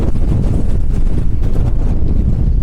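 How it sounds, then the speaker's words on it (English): Strong wind buffets the microphone in a constant loud roar with gusty fluctuations, no voices heard. "It is windy."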